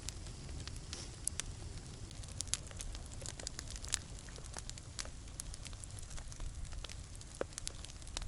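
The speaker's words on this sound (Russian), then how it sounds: "Посидеть у костра зимой." A winter campfire burns outdoors on a fishing trip, giving faint, scattered crackles and pops over a low, steady rumble of background noise, with no talking.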